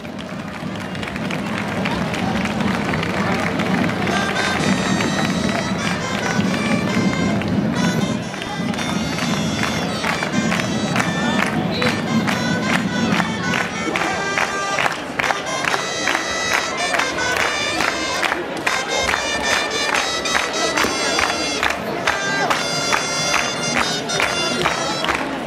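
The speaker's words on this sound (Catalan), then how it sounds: "Un fort aplaudiment per Sant Andreu de la Barca." A large crowd at a giants gathering in Manlleu claps and cheers loudly and continuously, the applause settling into fast rhythmic clapping that carries on throughout.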